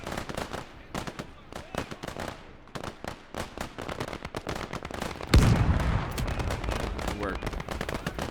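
Machine guns fire rapid bursts in the WWII tank game Commonwealth Conquest, crackling in dense volleys with a heavy boom partway through, while someone speaks briefly over the gunfire.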